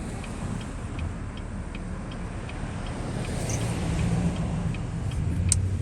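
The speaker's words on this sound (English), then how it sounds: "I'm just waiting for some traffic to come by so I can make my turn." Road traffic hums steadily near a cemetery in Pawtucket, Rhode Island, with a vehicle approaching and growing louder while a turn signal ticks in a regular rhythm inside the car.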